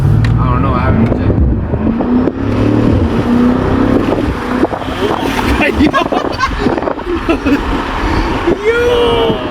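A BMW M5 Competition with traction control off in four-wheel-drive sport mode, its engine droning and rising inside the cabin amid wind noise while people talk excitedly over it.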